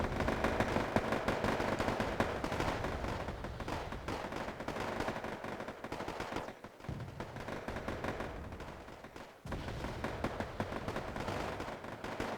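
Continuous gunfire and explosions in the video game Wargame: Airland Battle, a dense, loud crackle of shots across a battlefield, briefly dipping twice before resuming.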